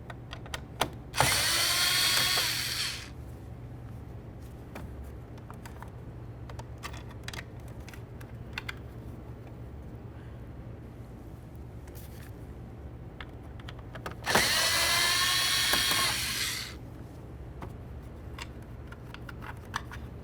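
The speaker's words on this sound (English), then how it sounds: "Start by removing the two Phillips head screws inside of the grab handle area." Phillips head screws are driven out of the grab handle area of a 1998-2011 Ford Ranger door panel, with two short, close whirring bursts from a power driver separated by a long stretch of quiet.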